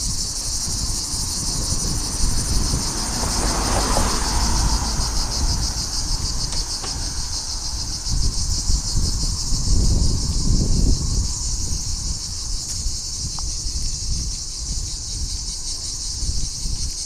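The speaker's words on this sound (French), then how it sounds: "Il y avait tous les genres de cigales, toutes les espèces" Cicadas in Aix-en-Provence shrill continuously outdoors in a dense, steady buzzing drone that holds for the whole stretch, with faint low street rumble beneath and no talk.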